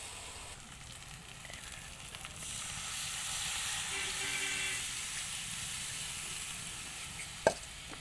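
Food frying in hot oil for a Bengali prawn malai curry, browning until reddish, gives a steady close sizzle and hiss throughout, with one sharp pop or spatter near the end.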